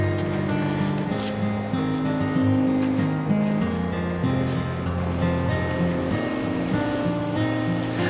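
Ocean waves wash steadily over a rocky beach at Chintsa West in South Africa's Eastern Cape. The surf forms a continuous, fairly loud roar with no clear breaks and no voices.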